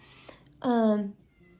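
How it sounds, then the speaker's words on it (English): A single clear cat meow, drawn out and close, following a brief faint sound; quiet otherwise. "I think I hear them meowing out there."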